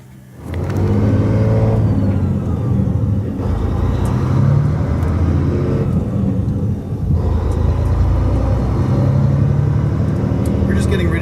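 A red 2004 motorhome cruises along a highway at about 80 km/h, with a loud, steady low engine and road drone filling the cab and rising in a couple of places as it pulls.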